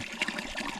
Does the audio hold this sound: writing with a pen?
no